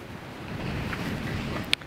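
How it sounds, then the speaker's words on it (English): Strong wind blows at a clifftop lighthouse, buffeting the microphone with a constant low roar and rumble, close and loud throughout. "it is extremely windy up here"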